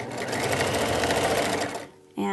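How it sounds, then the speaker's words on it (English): A sewing machine runs steadily while sewing binding onto a terry cloth burp cloth, humming loudly at close range for about two seconds before stopping, with a voice starting right after. "we're going to just sew right across and sew it back on"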